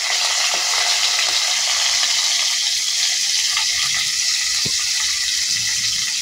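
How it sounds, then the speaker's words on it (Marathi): Cumin, chillies and curry leaves sizzle in hot oil for crispy pohe, a steady loud hiss of frying that stays even throughout with small pops, nobody speaking. "जिरे टाकायचे, मिरची टाकायची आहे, कढीपत्ता टाकून घ्यायचा आहे"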